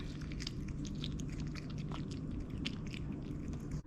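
Cat biting and chewing a crunchy pinkie mouse treat, close and continuous, with rapid wet crunches and gnawing over a steady room hum and a brief thump at the end.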